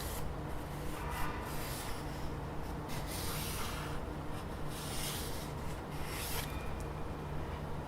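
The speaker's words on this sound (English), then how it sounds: "I'm just going to draw a wobbly shape of the GPD pocket to get a feel of it" A pen or pencil drawing a wobbly outline by hand on paper, a soft continuous scratching and rubbing with gentle strokes, close and quiet over a faint steady hum.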